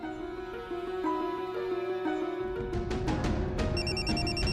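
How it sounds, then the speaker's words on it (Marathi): A phone ringtone plays a repeating electronic melody, growing louder and fuller partway through, with no talking. "फोन वाजला."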